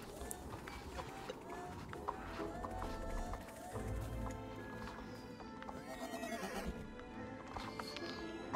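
A robot horse in the online horse-riding game Star Stable Online whinnying with a metallic, synthetic edge, mixed with clip-clopping hooves and tonal mechanical layers over a busy background, fairly soft overall.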